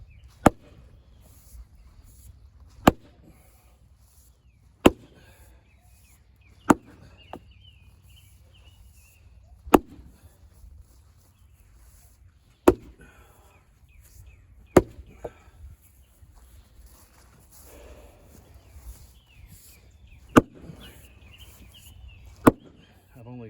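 Ash wood rounds, about 14 inches across, split by hand with sledges and wedges: sharp, loud metallic strikes land every two to three seconds, about nine blows, with quiet pauses and faint birdsong between.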